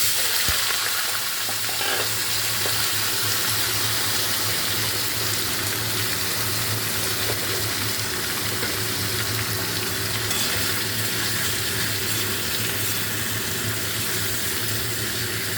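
Small-cut potatoes fry with dried chillies in a pan, giving a loud, steady sizzle that runs unbroken, with a few light stirring sounds near the start.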